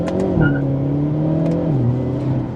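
A 2025 Hyundai Elantra N sedan with a dual-clutch transmission revs hard under full throttle, its loud, droning engine note climbing and dipping briefly as gears change. There is no talking.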